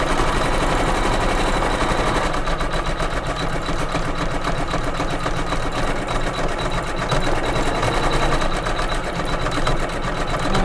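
A computerized embroidery machine stitches the white stripes of a flag block in white thread, laying down underlay before a satin stitch, with a loud, steady, rapid needle chatter running continuously throughout.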